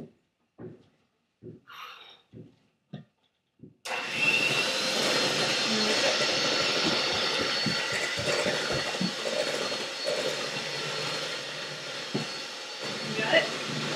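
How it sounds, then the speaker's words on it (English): An electric hand mixer whirs steadily as it mixes applesauce for gluten-free, egg-free cinnamon rolls. The motor's hiss and whine starts abruptly after a few short knocks and runs on continuously. "we're going to mix it with our electric hand mixer"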